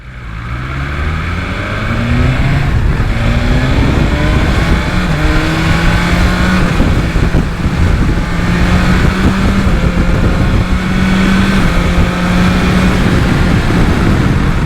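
BMW S1000 XR motorcycle engine under way, loud and close, rising steadily through the gears in repeated climbing sweeps with wind roar, then holding a steady high-revving drone; no talking.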